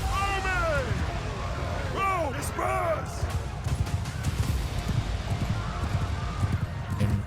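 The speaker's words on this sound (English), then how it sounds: "Got ourselves a horse now." A horse in the Bannerlord video game moves along with steady clip-clopping hooves, soft and rhythmic under battle ambience. Someone talks over the first few seconds.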